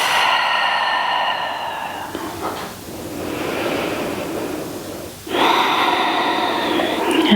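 Slow, deep breaths during a calming yoga practice, long audible inhales and exhales following one another in steady rounds, close and fairly loud, with no talking.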